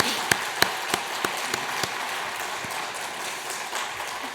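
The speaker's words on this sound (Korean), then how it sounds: "우리 서로를 격려하면서 함께 축복의 박수, 긍정의 박수 부탁합니다" A church congregation applauding during a Korean Sunday worship service, opening with a few sharp, separate claps that give way to a softer, scattered patter of clapping in the room.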